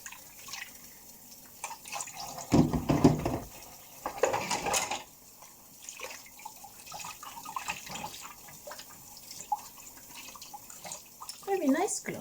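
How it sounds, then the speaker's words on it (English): Dishes, pots and cutlery clatter under a running kitchen tap while washing up in pink rubber gloves, with louder bursts of clinking and splashing in the first few seconds and a softer steady trickle of water afterward. "I'm not going to waste this fresh running water."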